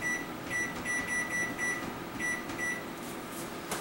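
A microwave gives a run of short electronic beeps as buttons are pressed, over a low steady hum of the oven running.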